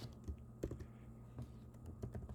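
Quiet computer keyboard typing while writing code, with a steady patter of individual keystrokes in irregular bursts, soft and close, with no voices.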